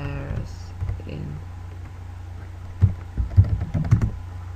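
Typing on a computer keyboard while entering a search into a browser, with a scattered run of quick key clicks toward the end over a steady low hum, close and moderately loud.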